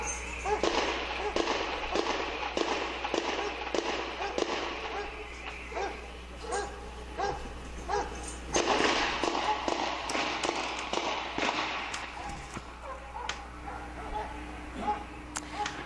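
Rapid volleys of gunfire crack through an early-morning police shoot-out with the Boston bombing suspects, loud sharp reports coming in dense irregular bursts for the whole stretch, with a steady low hum underneath.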